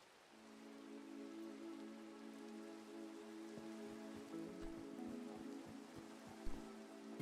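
Steady rain falling in the Minecraft video game, a continuous even hiss with a low background hum and a few soft thuds near the end, no voices.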